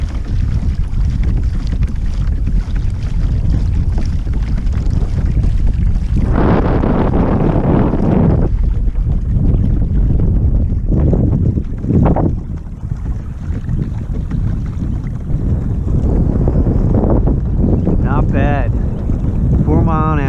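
Strong wind roars across the microphone on a Hobie Outback kayak out on Franklinville Lake in New Jersey, a constant loud rumbling buffet with brief lulls and a faint whistle near the end.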